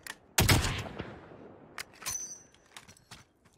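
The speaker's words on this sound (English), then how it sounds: "Fucking shooting at it." Gunfire in a Warzone match, a loud sharp burst up front followed by scattered quieter shots and crackling reports trailing off over a few seconds, with no talking.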